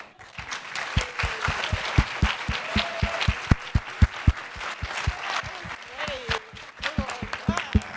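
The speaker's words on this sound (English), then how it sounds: "Give a round of applause again for Alpas" A high school crowd applauds team Alpas, with loud rhythmic unison clapping in a steady beat layered over scattered cheering, all close and energetic.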